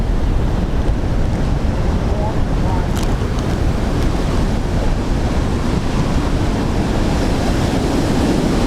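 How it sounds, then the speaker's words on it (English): Strong wind buffeting a microphone outdoors beside a stormy airport runway, a loud continuous roaring rumble that masks everything else. "Sorry, wind caught me there"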